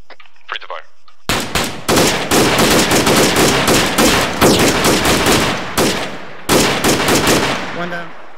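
Automatic weapon fire in the military shooter Arma 3, long dense bursts of rapid shots, loud and close, broken by brief pauses, with faint voices on squad radio at the start.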